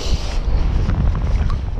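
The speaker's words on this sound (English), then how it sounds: "Wind is picking up now." Coastal wind gusts and buffets loudly against the microphone in a continuous, rumbling roar without any voices.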